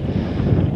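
Gusting wind buffets the microphone on a mountain walk up Coniston Old Man, a low rumbling roar that fills the brief moment without any voices.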